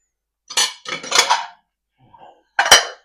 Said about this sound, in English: I don't know how to do the dishes quieter, because they are dishes.